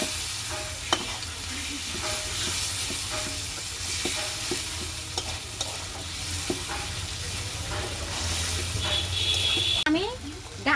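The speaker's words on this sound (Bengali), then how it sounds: "এখন আমি নেড়ে চেড়ে দিচ্ছি" A spatula scrapes and stirs leafy greens through a hot, sizzling pan while cooking a village-style katla fish-head muri ghonto. Steady frying hiss runs throughout, with irregular stirring knocks and scrapes up close and a brief watery splash near the end.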